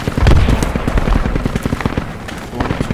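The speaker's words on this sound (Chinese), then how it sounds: "那边枪声，那边枪声不是自己的" Gunfire in the military shooter game Project Reality: loud, rapid bursts of automatic weapon fire with dense, rhythmic cracks and booms, heard alone without talk.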